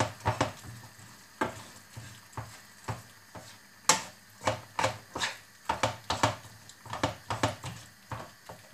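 A spatula repeatedly presses and stirs eggplant frying in tomato sauce for a Moroccan salad, giving close, irregular scraping and squelching pulses over a steady low sizzle.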